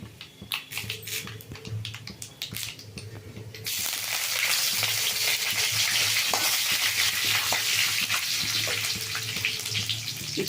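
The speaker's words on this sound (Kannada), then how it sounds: "ಕಡಲೆಬೇಳೆ ಎಣ್ಣೆನಲ್ಲಿ ಫ್ರೈ ಆಗಿದೆ ಕರಿಬೇವು ಹಾಕ್ಕೊಳ್ತಾ ಇದ್ದೀನಿ" Curry leaves dropped into hot oil with fried chana dal burst into a loud, steady sizzle that flares at about three and a half seconds and holds strong to the end, close and unbroken, with no talk over it.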